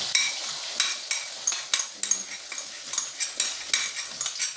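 An omelette (telur dadar) frying in a wok: a steady, fairly loud sizzle runs throughout, broken by repeated light metallic clinks and scrapes of a utensil against the pan.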